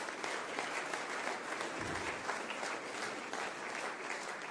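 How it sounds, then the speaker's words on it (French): A large audience applauds steadily at a conference on the African diaspora in France. The dense, even clapping fills the room for the whole stretch and stays constant, with no voices over it. "vous pouvez l'applaudir"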